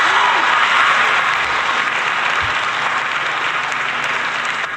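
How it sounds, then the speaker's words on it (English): A steady round of applause fills the space for the newly announced Super Bowl halftime performer, The Weeknd, dense and sustained throughout with faint background voices mixed in. "Let's give that a round of applause."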